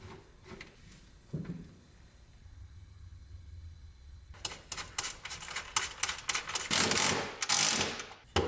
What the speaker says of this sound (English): Installing these M8 riv nuts.